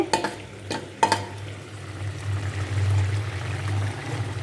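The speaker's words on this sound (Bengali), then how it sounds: "জিরেটা চামচ দিয়ে ঘষে দিয়ে দেবো। জিরেটা এভাবে ঘষে দিয়ে দিচ্ছি" A spoon scrapes and rubs cumin into a raw banana curry in a pan: a few quick metallic strokes at the start, then a soft, continuous sizzle and stir.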